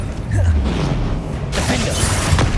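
Bombarda and Confringo spells in Hogwarts Legacy go off as a pair of loud magical blasts, with whooshing energy and a sharp crashing burst partway through, and a voice briefly speaks over them.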